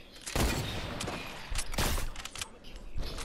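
Golden sniper rifle shots in Fortnite, with loud, sharp cracks and booms firing a few at a time, trailed by echoes and smaller impacts; no talk.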